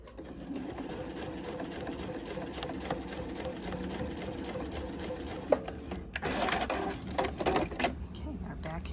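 Sewing machine basting two fabric pieces of a breast form together, running steadily through most of the stretch with a brief pause and clatter near the end, with faint talk in the background.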